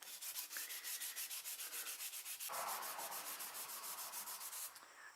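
Sandpaper rubbed back and forth over the aluminum of a 1996 Mustang spoiler being prepped for repaint, a steady close rhythmic scraping of quick repeated strokes that continues nearly unbroken to the end.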